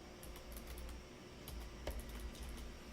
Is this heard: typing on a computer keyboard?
yes